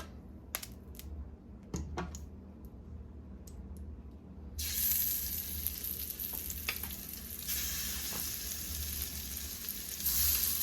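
Salmon fillets sear in olive oil in a hot pan, a steady close sizzle that starts with a few clicks and pops, then swells into loud broadband frying hiss, with no one speaking.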